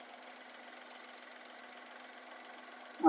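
A 2014 Maruti Wagon R CNG car engine idling, a quiet, steady low hum with a faint even vibration, alone and fairly soft.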